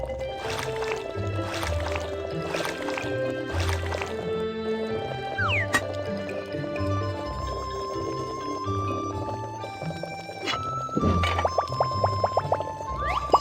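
Tea eggs in a simmering sauce slosh and drip as they are stirred, with wet splashy bursts over steady tonal background sounds and a louder stirring flurry near the end.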